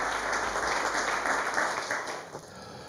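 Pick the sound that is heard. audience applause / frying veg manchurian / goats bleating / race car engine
audience applause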